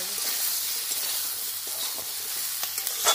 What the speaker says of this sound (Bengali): আলু, শিম আর বেগুন, এগুলো দিয়েছি ভালো করে এখন ভাজবো